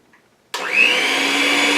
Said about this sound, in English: So I'm going to take my mixer